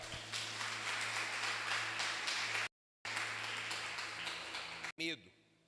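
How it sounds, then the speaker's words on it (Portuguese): A church congregation at Igreja Ebenézer applauds in a dense, steady wash of clapping, broken by a sudden short dropout, then fading out under a brief electronic tone at the end. "Você que crê, levanta um aplauso ao Senhor agora."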